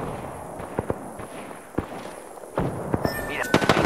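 Bursts of gunfire in the Apex Legends battle royale: scattered sharp shots and short volleys, some near and loud, others farther off, with game tones near the end and no speech.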